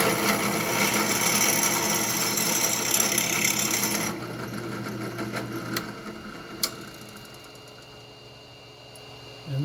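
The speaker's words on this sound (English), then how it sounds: "I'm going to go ahead and drill this out." A power drill bores into a stunt Ultrasabers Bane lightsaber hilt with a steady, loud whir for about four seconds, then winds down into quieter buzzing and a few sharp clicks.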